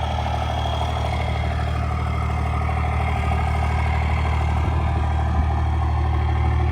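A 1999 Dodge Ram 3500 quad cab long-bed 4x4 with the 5.9 liter diesel, 359,000 miles on it, idles steadily nearby with a deep, even clattering rumble and no voices over it.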